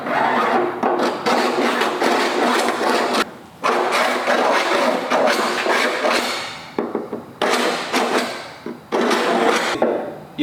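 An abrasive cutting wheel slices through the sheet-metal body of a wrecked Ford Transit T250, a loud continuous grinding whine in long bursts broken by brief pauses.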